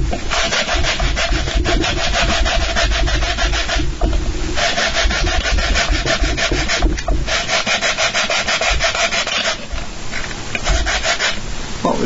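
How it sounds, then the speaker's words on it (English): A drum top is sanded by hand late at night, with steady abrasive rubbing strokes running continuously and close up, briefly pausing a few times before resuming. "if I just sand this top of this drum, it should solve the problem"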